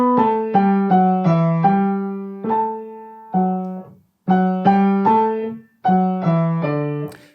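A piano phrase played smoothly with a rounded-off ending: sustained notes grouped into short phrases, each group softening and fading before the next begins, moderately loud and close, no talking.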